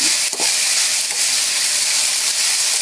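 Diced potatoes and cabbage sauté in oil in a hot pan before egg goes in, a loud, continuous sizzling hiss with a few soft stirring scrapes.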